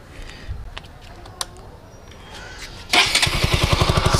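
A motorcycle engine with its stock exhaust starts up after a few seconds of quiet clicks and handling noises, then runs loudly and close by with a steady, pulsing exhaust beat.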